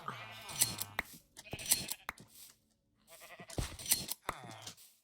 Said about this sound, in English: Let's go shave the sheep first.